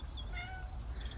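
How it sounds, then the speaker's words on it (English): A cat meows in a garden plot, a single drawn-out, fairly close meow over constant low background rumble. "Oh God, cat."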